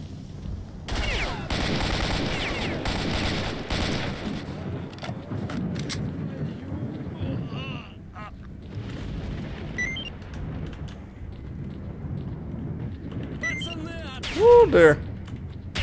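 Bursts of automatic gunfire against bandits in the video game S.T.A.L.K.E.R.: Shadow of Chernobyl rattle loudly, then give way to sporadic shots, in-game calls and ambient noise, ending with a couple of close heavy blasts; someone talks over the action.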